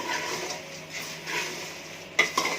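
A spoon stirs and scrapes kaaram burugulu as they fry in a pan, a close, steady hiss of frying with a few sharp metallic scrapes near the end.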